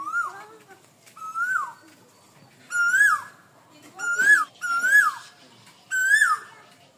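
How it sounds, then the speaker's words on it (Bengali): An Asian koel calls repeatedly in a village, six clear rising whistled notes in a steady rhythm against a quiet background. "কোকিলের ডাক, এটা মনে হয় একমাত্র গ্রাম থেকেই এত সুন্দরভাবে শোনা সম্ভব।"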